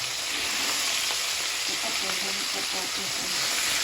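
Cooking oil sizzles steadily in a pan, ready for sautéing, a dense, even hiss that holds near and loud for the whole stretch.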